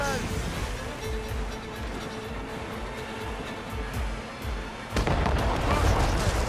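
Naval cannons fire in Assassin's Creed Rogue, with heavy, rumbling booms rolling over constant battle noise and a sharper, louder blast near the end. Shouted voices are heard beneath the gunfire.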